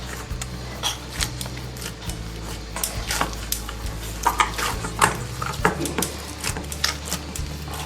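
Ghee is worked into potato poori dough in a bowl, giving irregular tapping, scraping and clinking of a spoon against the dish, steady and close, with no talk.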